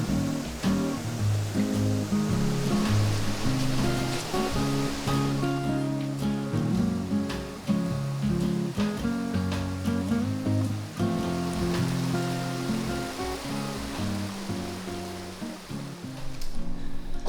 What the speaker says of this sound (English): look at the current and how clean the water is